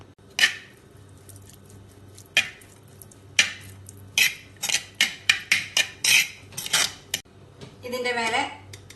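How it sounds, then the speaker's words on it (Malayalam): A spoon stirs rice with chicken masala in a pot for chatti choru, giving a rapid series of close metallic scrapes and clinks against the vessel, with someone speaking near the end. "ഇതിലേക്ക് ചിക്കൻ മസാലേന്റെ കുറച്ച് മസാല മാത്രം ഇട്ട് ഒന്ന് മിക്സ് ചെയ്യാം"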